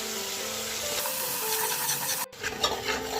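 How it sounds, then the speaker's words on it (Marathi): Green spice paste for bhogi bhaji stirred and sautéed in a pan, a steady scraping and soft sizzle that runs on without talk, with a brief dropout near the end. "2 मिनिट आपल्याला हे परतायचं आहे."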